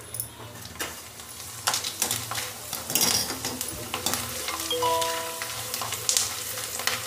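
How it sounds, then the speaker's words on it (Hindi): Dried potato chips frying in hot oil, a steady close bubbling sizzle broken by frequent clinks and scrapes of a metal utensil moving them around the pan. "तो मैं इसे मैं फ्राई करके दिखाती हूँ मैं आपको।"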